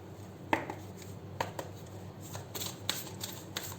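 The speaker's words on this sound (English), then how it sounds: "You pull out one card from the Sacred Indian Tarot for your health." Sacred Indian Tarot cards shuffled and drawn by hand, a run of soft riffling flicks and taps close by, several quick bursts spread across the moment with no talking.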